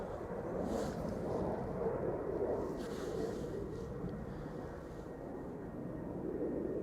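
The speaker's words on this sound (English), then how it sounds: "Little Embraer 190 taking to the sky, having departed from the center runway" An Embraer 190 jet departs the centre runway at Amsterdam Schiphol. Its engines make a steady, broad, distant roar that holds at an even level throughout, with no talk over it.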